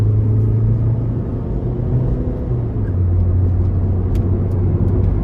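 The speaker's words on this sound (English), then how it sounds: "we're gonna give it a little bit of gas here" A 2006 Nissan Sentra 1.8S accelerates onto the interstate, heard from inside as a loud steady engine drone with shifting pitch over constant road rumble.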